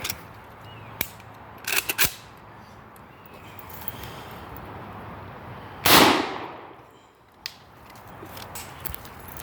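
A single loud, sharp rifle shot from a 7.62x39 AK-pattern Draco fired at bulletproof glass, with a short ringing tail, preceded and followed by a few fainter clicks and knocks outdoors.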